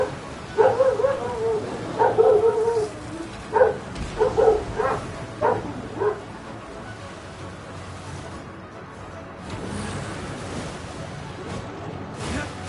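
A dog barks in quick repeated bursts, moderately close, for several seconds before falling quiet under a low background wash.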